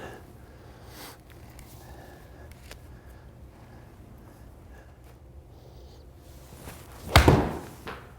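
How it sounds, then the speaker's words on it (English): A golf club strikes the ball on a training swing with a Gravity Fit TPro aid: one sharp, loud impact near the end, following a quiet stretch of low ambient noise. "That's a really good feeling strike there."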